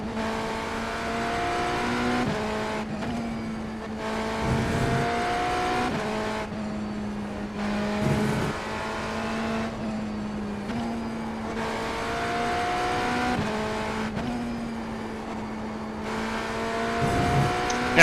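Race car engines lapping the Le Mans circuit in a racing video game, a loud, steady high-revving drone that dips and climbs through repeated gear shifts, with no talking.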